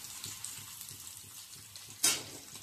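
Curry leaves sizzling in hot oil in a pan for Maggi noodles, with a quiet, continuous frying crackle and a sudden sharper hiss burst near the end.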